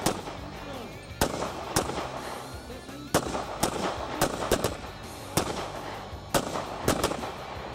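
Sharp gunshots crack at irregular intervals during target-shooting training, about ten of them, loud and echoing, with a murmur of background voices between shots.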